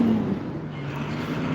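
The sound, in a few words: truck driving past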